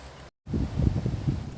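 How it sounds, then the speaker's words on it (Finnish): Heavy outdoor wind buffeting the microphone in a garden, a low rumbling roar that cuts out briefly then returns loud and gusty. "Ihan järkyttävä tuuli, toivottavasti se ei kokonaan pilaa tätä ääntä tästä."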